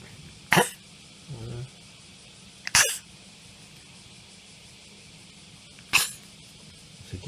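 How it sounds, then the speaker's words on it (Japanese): A Yorkshire terrier coughs three times, each a short, sharp, close burst separated by several seconds of near quiet, with a faint low snuffle in one gap. "咳してますね。"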